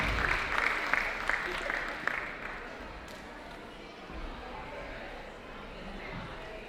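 Applause from an audience at a Ramadan festival for the Mayor of Georges River Council, a dense burst of clapping that is loudest at the start and thins out over the following seconds under a murmur of voices.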